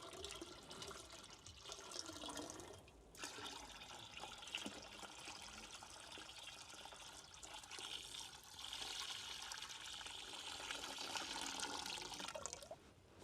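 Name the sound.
pouring lime water (chuna pani) into container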